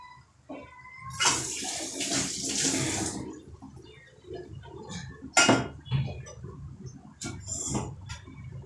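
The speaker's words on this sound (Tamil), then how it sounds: "மட்டன் இந்த மாதிரி கழுவுனாங்க பாருங்க" Mutton being washed in water, with splashing, running water and clattering vessel sounds in irregular bursts, fairly close and moderately loud.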